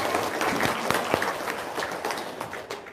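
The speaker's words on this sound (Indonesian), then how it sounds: "Tepuk tangan dong." An audience claps at a gathering, a short steady stretch of scattered hand claps blending together at moderate loudness with faint voices under it.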